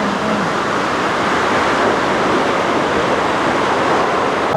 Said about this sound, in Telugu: వాటర్ ఫాల్స్ చూసుకోండి, water fall Kothapalli water falls dam beautiful.